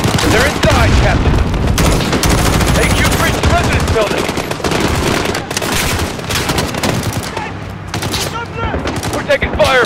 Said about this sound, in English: We're taking fire from the residence.